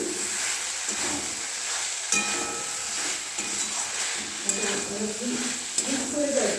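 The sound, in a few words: stirring paneer frying in a pan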